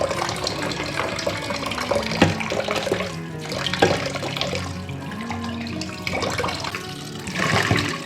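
Tap water runs steadily over sweet potatoes being washed by hand in a home kitchen, a continuous splashing flow with occasional louder gushes, close and moderately loud throughout.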